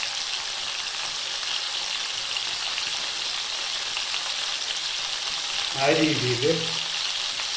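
Chicken pieces fry in ghee in a pan with a loud, continuous close sizzle throughout, while a voice briefly speaks near the end.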